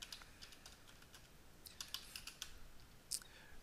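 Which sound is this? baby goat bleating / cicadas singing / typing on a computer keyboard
typing on a computer keyboard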